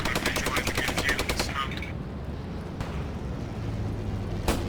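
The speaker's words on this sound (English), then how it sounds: "Let's keep up that automatic rifle fire along the long axis of the bridge" Automatic rifle fire in the tactical shooter Post Scriptum: a loud, rapid burst of rattling shots that stops after a couple of seconds, then a rumbling battlefield bed with a distant crack and one more sharp shot near the end.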